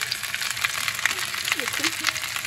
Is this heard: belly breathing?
no